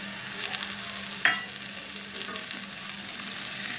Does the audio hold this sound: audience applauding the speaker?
no